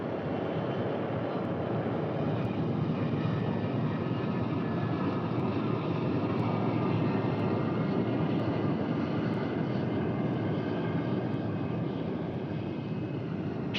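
Steady, loud engine roar of a North American X-15 research aircraft, a continuous broadband drone that holds an even level for the whole stretch, with no voices over it.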